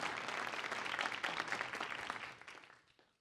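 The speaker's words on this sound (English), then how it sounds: "let's welcome the entire panel with a big round of applause before we get started" Applause from a conference audience welcoming a transportation panel on gender equality, a dense burst of many hands clapping that holds for about two seconds and then quickly fades away.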